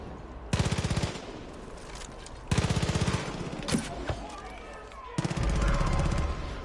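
Rapid automatic gunfire from the video game Far Cry 5 played on PS4, coming in loud bursts with pauses between them, with a few single sharp shots and brief talk underneath.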